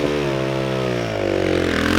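A motorcycle engine revving hard and pulling away, its pitch climbing as it accelerates, loud and close.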